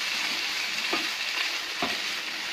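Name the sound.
stirring boiled peas ragda in a pan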